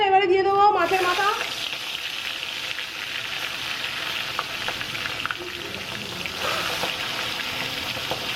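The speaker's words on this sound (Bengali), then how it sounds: "এই তেল গরম হয়ে গেছে, তেল দিয়ে ধোয়া ছাড়ছে, এবারে দিয়ে দেবো মাছের মাথা।" Fish head dropped into hot smoking oil frying, a steady close sizzle and crackle after a brief burst of sound at the start, continuing unbroken throughout.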